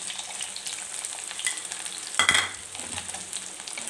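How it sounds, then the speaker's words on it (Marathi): Onion and garlic fry in oil with mustard seeds and cumin, a steady close sizzle with a wooden spoon stirring through it and a brief louder flare midway. "तर इथं कांदा छान तेलामध्ये परतून घ्यायचा"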